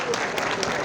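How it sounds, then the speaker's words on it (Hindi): A crowd at a tourism department event at Ram Nagar Fort, Jammu, gives a guest loud, dense applause, steady and close throughout the short burst. "उनका भी जोरदार तालियों के साथ स्वागत करें"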